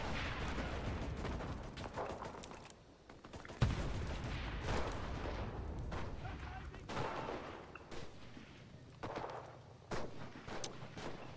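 Gunfire in a video game tank battle, repeated loud broadband bursts with a sharp crack near four seconds, mixed with engine rumble and players talking throughout.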